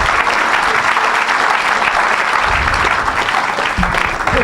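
A church congregation applauds Jesus, sustained loud dense clapping from a large crowd that fills the space without pause.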